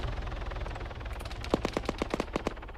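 Helicopter gun run in a PMC PvP military video game: a rapid burst of machine-gun fire, around a dozen evenly spaced cracking shots following a quieter stretch, fairly loud against steady background noise.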